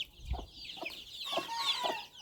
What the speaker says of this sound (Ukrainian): прорвалися ці курчата сьогодні туди